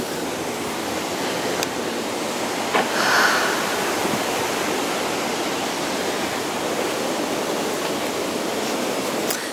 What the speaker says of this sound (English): The new Abbey Mill sluice.